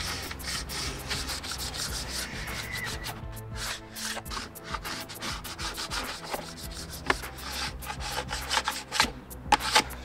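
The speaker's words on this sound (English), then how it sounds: "now that we've scraped off all of the residual wax" A scraper dragging residual wax off a snowboard base, giving loud, close, continuous rasping strokes in a steady back-and-forth rhythm, with sharper scrapes toward the end.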